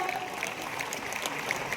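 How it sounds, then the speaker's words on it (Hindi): An audience applauds for a state manager at an MI Udaan event in Mahatma Mandir, Gandhinagar, a fairly faint, steady wash of clapping from a crowd heard at some distance. "जैसे प्रजोत sir state manager of Bhopal, उनके लिए भी जोरदार तालियां"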